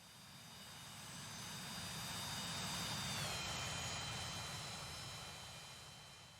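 A Citation Mustang jet makes a flyby in the X-Plane flight simulator game, producing a steady engine roar with a whining tone that rises and falls in pitch as it swells to a peak midway and fades, with no talking.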